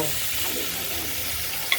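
Tomato pieces sizzle in a pan with frying potatoes, a steady close hiss with light stirring and one small clatter near the end.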